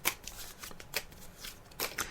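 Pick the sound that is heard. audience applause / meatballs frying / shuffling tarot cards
shuffling tarot cards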